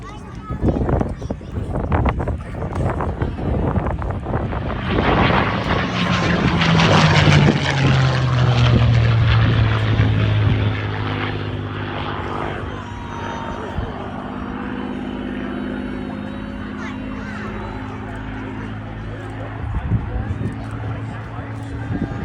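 A propeller aircraft passes at an air show, its engine drone swelling loud and close as it goes by, then settling into a steadier fainter hum.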